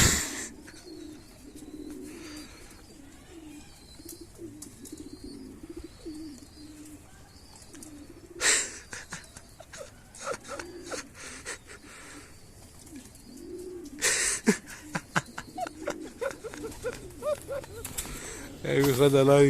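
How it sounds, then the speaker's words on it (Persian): A pigeon coos in soft, repeated low rolling calls while someone tries to catch it, with people talking nearby, brief rustling and scuffling bursts, and a few sharp clatters toward the end. "میخواد الان این کبوتر غریب رو بگیر"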